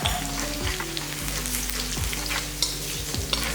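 Garlic and asafoetida frying in hot oil for a tamarind curry, a close, steady sizzle with crackles and spoon scrapes against the pan running throughout.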